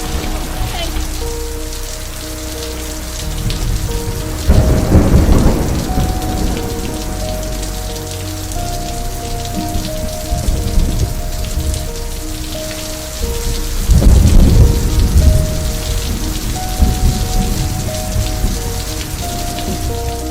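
Heavy tropical-storm rain during a hurricane pours down steadily, and two deep rolls of thunder rumble up, one near the five-second mark and a louder one near fourteen seconds, above a constant wash of drops.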